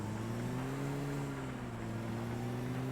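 A vehicle engine drones steadily and evenly throughout while driving in PUBG, with no one speaking.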